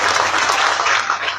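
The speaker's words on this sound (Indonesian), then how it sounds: "Oke, tepuk tangan untuk beliau." An audience applauds a speaker at a public talk: dense, steady clapping from many hands fills the whole short stretch, loud and close, with no voices on top.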